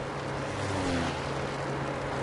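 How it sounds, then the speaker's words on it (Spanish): A car engine in the Sniper Elite video game gives a steady, moderately faint low rumble with a slight whine, droning evenly throughout. "Oigo un auto, ¿no?"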